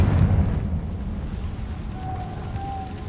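A fiery Confringo blast spell goes off in the Hogwarts Legacy video game, a dull rumbling boom that starts strong and slowly fades into a low lingering roar with a faint thin tone.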